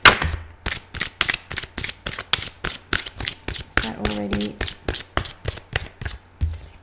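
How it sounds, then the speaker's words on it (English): A deck of tarot cards riffled and bridged over and over in a quick, even rhythm of sharp close clicks and snaps, with a brief spoken remark partway through. "If you don't like the shuffle, please fast forward."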